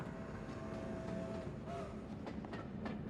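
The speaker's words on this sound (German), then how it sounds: "Hauptsache die Eisenbahn fährt hier durch." A train rolling past in the video game Vampyr, a steady low rumble with rhythmic clattering wheel clicks, fairly faint and continuous throughout.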